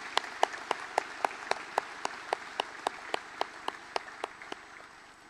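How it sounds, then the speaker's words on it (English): Mourners at a funeral service applaud the speakers with steady, evenly spaced claps that sound sparse and moderately quiet, fading out at the end. "I think a collective round of applause is warranted for all of our speakers."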